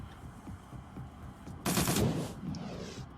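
Gunfire in the video game Shadowrun: Dragonfall, a rapid burst of shots that swells into a loud sustained volley after a quieter stretch of soft rattling, with no talking over it.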